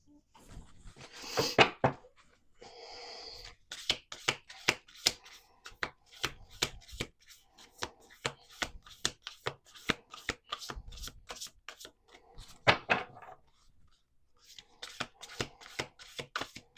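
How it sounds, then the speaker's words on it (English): Crisp card shuffling up close: repeated sharp riffles and snaps in quick succession, with brief pauses between bursts. "We're going to do one more shuffle."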